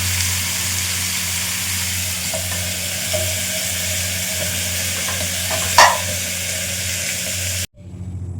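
Chopped jackfruit and potato fry in a little oil, a steady close sizzle with light stirring, one sharp clink near the end before the sound cuts off abruptly.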